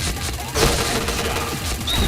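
Dense, continuous gunfire and crashing impacts from the online shooter PointBlank, loud and busy throughout with brief bursts layered over a steady din.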